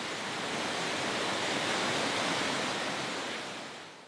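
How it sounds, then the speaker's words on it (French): The Iguazu waterfalls, a site of some 200 cascades, roar as a dense, continuous broadband rush of falling water, steady and powerful before easing slightly at the end, with no talking. "Iguassou et ses 200 cascades."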